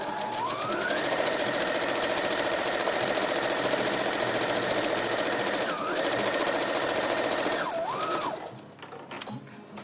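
A sewing machine stitches a fabric face mask forward, back stitches, then runs forward again: a close, steady mechanical whir with a rising hum, brief dips near the direction changes, and a stop toward the end.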